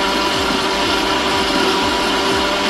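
A kitchen blender whirs steadily at close range while garlic and oil are blended into toumia sauce, a loud continuous motor drone with rhythmic churning pulses.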